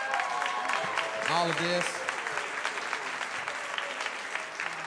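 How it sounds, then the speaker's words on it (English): Crowd applause at a Faulkner University reunion show, a thick continuous wash of clapping hands at moderate distance, with a voice speaking briefly over the start before the clapping carries on alone. "give a big round of applause to Joey Wigginton for putting together"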